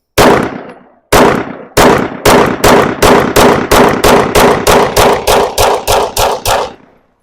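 A Sig P365 pistol fires seventeen rounds from a 17-round magazine in a steady rapid string of loud, sharp, evenly spaced reports, each ringing briefly into the next, with a short pause after the first two shots.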